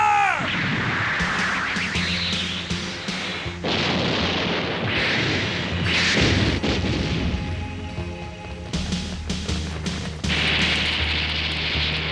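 Gunfire and explosions fill a battle scene from the 1989 anime Angel Cop, with repeated loud bursts and booms layered over a dense, continuous soundtrack.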